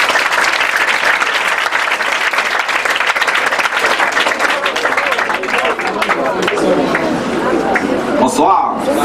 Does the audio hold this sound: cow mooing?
no